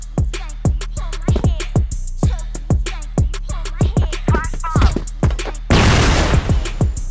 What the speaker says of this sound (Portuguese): Aí é a hora que ele começa a dar tiro antes de eu chegar ainda.